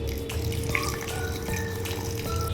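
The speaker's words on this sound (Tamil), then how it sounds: "கொஞ்சமாக தண்ணி விட்டு அரைச்சிக்கிறேன்." A little water being poured into a mixer grinder jar holding cashews, roasted gram and fennel seeds, a short, close, steady trickle and splash with no talking.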